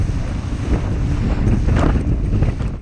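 A small boat heads into heavy seas on Loch Linnhe, with loud wind buffeting the microphone, rushing water and waves slapping against the hull in a constant close roar.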